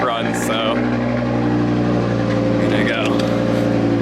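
A race car used for racetrack runs idles with a steady, close, droning engine hum that holds even throughout, and faint voices can be heard over it.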